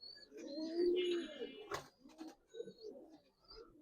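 Giribaz coloring pigeons at a pigeon farm coo softly nearby, a low rolling coo followed by quieter murmurs and a few brief rustles and clicks.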